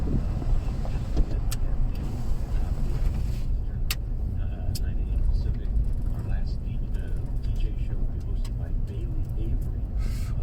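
Steady low road and wind rumble from inside a Tesla driving on cruise control, constant and close, with a few faint clicks and ticks over the top.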